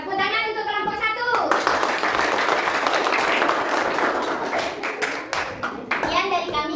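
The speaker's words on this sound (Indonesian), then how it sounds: "tepuk tangan untuk kelompok 1" A classroom of children breaks into loud, dense applause for a group of presenters. The clapping starts after a few words from a young voice and continues over a background of children chattering.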